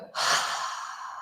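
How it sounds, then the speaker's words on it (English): A big, breathy exhale during a hatha yoga shoulder release, a single long sigh that starts abruptly and trails off slowly, close and clear with no talk. "Big exhale to let go."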